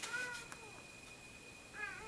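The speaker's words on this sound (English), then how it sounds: "Do you hear my cat?" A pet cat meows twice, a short drawn-out cry at the start and another near the end, fairly faint over a quiet indoor room hum.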